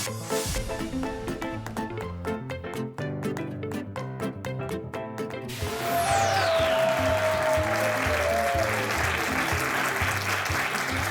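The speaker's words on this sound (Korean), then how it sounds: "여러분 환호해 주셔서 너무 감사드리고요" Loud applause and cheering from a large, mostly male audience at a Korean lecture event, with music playing early on before dense clapping swells and continues steadily, a sweeping whoosh heard mid-way.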